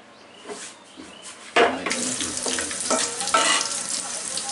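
Half a cup of onions frying in half a cup of oil for a spicy mutton chop dish, a steady close sizzle that rises sharply partway through and stays dense with crackling and the occasional clink of stirring.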